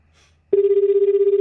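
A telephone starts ringing abruptly after a moment of near silence, its bell sounding a steady, rapidly pulsing electronic trill, close and loud.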